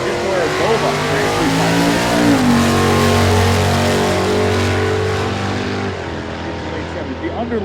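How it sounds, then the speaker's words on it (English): A supercharged late-model 5-liter Mustang at a drag strip, its engine roaring loud and steady with a pitch shift partway through, while an announcer talks over the racing noise. "Here comes KJ Jones, the editor of 5 Liter Mustang Magazine, in the supercharged late model 5-liter powered Mustang"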